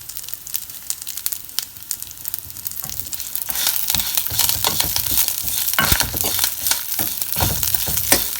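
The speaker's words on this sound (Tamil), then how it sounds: "தேங்காய் கருவேப்பிலை ரெண்டும் நல்லா வதங்கிடும்." Grated coconut and curry leaves frying in a pan for a curry leaf thuvaiyal, with crackling, popping sizzle and repeated scraping stirs that grow louder and denser partway through.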